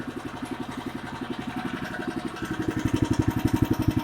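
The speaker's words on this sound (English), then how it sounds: "let the engine work approximately for 5 minutes to warm up enough to oil to be drained properly" A rotary tiller engine runs outdoors while warming up, a close, rhythmic chugging pulse that gradually grows louder and faster toward the end.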